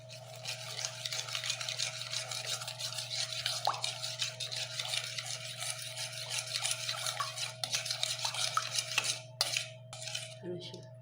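Rice being stirred and mixed with meat broth and olive oil in a pot, a steady scraping and swishing with light clinks of utensil against the vessel over a low background hum.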